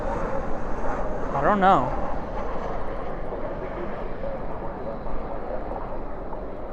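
A jet taxis at night at DFW airport, a steady low engine rumble and roar holding throughout, with people talking over it nearby.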